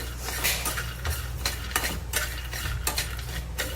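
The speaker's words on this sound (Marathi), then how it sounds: "थोडेसेच भाजून घ्यायचे फुटाणे" Phutane (roasted chickpeas) being dry-roasted in a pan, with a spoon stirring and scraping them in quick, rattling bursts over a low hum, close and steady.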